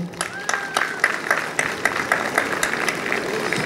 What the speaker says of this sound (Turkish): şerefli tarihe sahip olan milletimi alkışlamak istiyorum